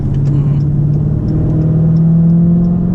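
A Dodge Challenger SRT 392 pulling away from a light, its engine droning steadily and loud up close with a rising tone, with a voice briefly audible over it.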